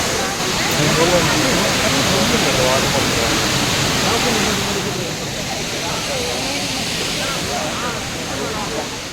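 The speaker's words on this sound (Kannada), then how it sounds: "ಕೂರ್ಗದು ಅಬ್ಬೆ ಫಾಲ್ಸ್ ಸಕ್ಕತ್ತಾಗಿದೆ ಗೈಸ್" Abbey Falls waterfall in Coorg during monsoon roars as a dense, steady rush of water, loud and unbroken, with voices talking faintly beneath it.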